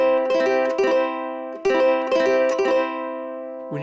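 Ukulele played with a country eighth-note strum, the upstroke striking all four strings for a fuller, harsher sound; repeated bright strums in a steady rhythm, close and clear, with no talking.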